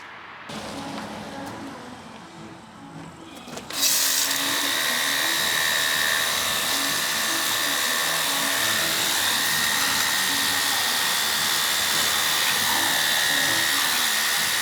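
A battery-powered pressure washer runs after its battery is cleaned of green corrosion, starting with a sudden loud jump into a steady high-pitched motor whine that holds continuously.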